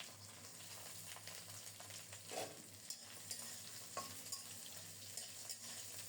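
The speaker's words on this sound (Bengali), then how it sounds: "প্রথমে আলু আর গাজর দিয়ে দেব" Chunks of potato and carrot fry quietly in mustard oil tempered with nigella seeds, giving a soft, continuous sizzle broken by a few scraping stirs of the spatula in the pan.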